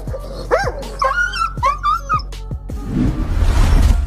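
A dog whimpers and cries in high, wavering yelps, followed by a few short sharp barks, close by, ending in a burst of rustling noise.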